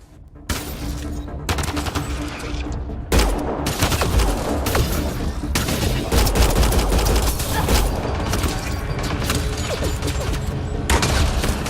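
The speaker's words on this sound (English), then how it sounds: "I think we actually need to switch to the pistol now." Gunfire from the video game Mass Effect: Andromeda, loud and continuous, with rapid bursts and sharp shots layered over game sound in heavy combat, with no talk.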